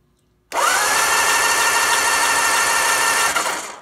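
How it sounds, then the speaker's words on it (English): Starter motor cranks a vintage British motorcycle engine with its spark plugs removed, a loud, steady mechanical whir that starts abruptly, holds evenly for about three seconds, then winds down. "I will press the starter button. The engine will turn over, but I've got the spark plugs out"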